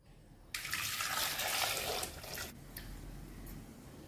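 Tap water gushes steadily for about two seconds while four large potatoes are rinsed in a kitchen sink, then drops to a softer, thinner trickle.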